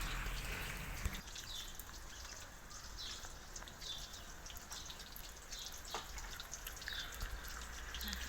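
Light raindrops tapping and dripping at irregular intervals over a soft background hiss, with faint bird calls in the distance, outdoors near a wood fire.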